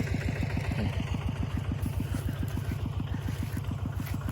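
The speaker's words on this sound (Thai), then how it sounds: "เอารถไถนาเดินตามมาไถร่อง" A walk-behind tractor ploughs furrows in a rubber plantation, its single-cylinder engine thumping in a rapid, even, loud beat throughout with no voices.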